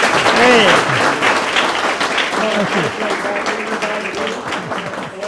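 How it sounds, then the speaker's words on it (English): An audience at a mayors' panel conversation claps in a full, sustained round of applause, loud and dense at first then tapering slightly, with voices talking over it. "let's give them a big round of applause"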